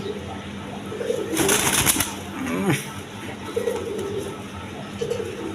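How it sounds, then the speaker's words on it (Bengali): A pair of large Gopalganj pigeons, a male and a female, give low, soft coos that return several times over steady background noise. A short burst of flapping or rustling comes near the start. "এক পেয়ার গোপালগঞ্জের বড় পায়রা কবুতর আছে"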